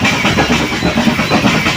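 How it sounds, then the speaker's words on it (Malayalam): The Nilgiri mountain train climbs toward Coonoor, a steady, loud mechanical rumble and clatter of the engine and carriages grinding uphill, continuous and close throughout with no talking. "താഴേന്ന് കയറി വരുന്ന ട്രെയിനാണ്."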